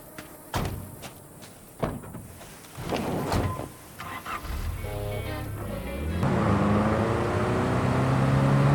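A car in Cyberpunk 2077 is entered with door thumps and slams, then the engine starts and drives off into a steady, loud rumble that holds to the end.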